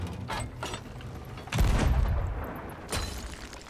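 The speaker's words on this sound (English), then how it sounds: "You can even use the cannon. Load the cannon." A cannon in a video game, aboard a ship anchored near an island, is loaded with a short mechanical rattle and then fires in two heavy booms spaced about a second apart.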